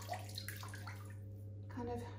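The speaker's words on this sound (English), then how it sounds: "kind of running the water around her" Bath water is swished gently around a baby, a soft continuous sloshing close by, with someone speaking quietly over it.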